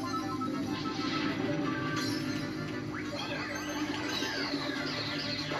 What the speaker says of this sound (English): I just hit King Boo. He screamed he screamed so loud